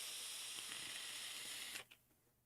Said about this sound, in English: it's got a little crackle and sizzle going on